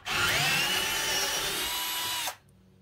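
A Milwaukee M12 cordless drill/driver spins with a steady high-pitched whine for about two seconds, loud and close, then cuts off abruptly, leaving a quiet room.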